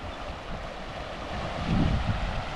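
A river flows below steep cliffs in a forest wilderness, a steady broadband rush of water with some wind, swelling slightly toward the end and heard alone with no voices.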